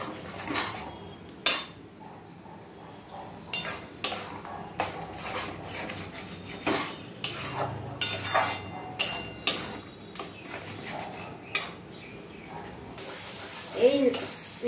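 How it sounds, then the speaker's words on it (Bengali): Pointed gourd being stirred in a pan, repeated soft scraping and clinking of a utensil against the pan at an irregular rhythm, fairly quiet with some background noise. "এবার এটা ভালোভাবে নাড়তে হবে।"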